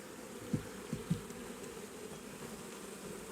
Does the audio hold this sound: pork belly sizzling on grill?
no